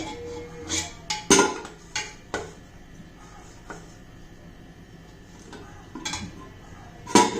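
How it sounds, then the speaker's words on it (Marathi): A plate is set down inside a pressure cooker while making kothimbir vadi, giving several sharp metallic clinks and clatters at close range, spaced irregularly across a quiet kitchen background. "हे बघा आता ही प्लेट कुकरमध्ये ठेवते"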